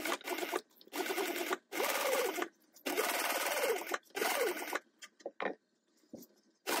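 A sewing machine runs down a tote bag seam in four long bursts of rapid, even stitching with brief pauses between them, then a few short stops and starts. It is close and loud, and a voice speaks briefly.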